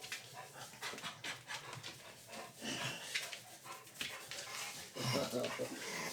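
A dog pants steadily and close by at a sandy beach setting, with a person speaking affectionately over it throughout.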